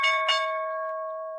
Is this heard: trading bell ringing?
yes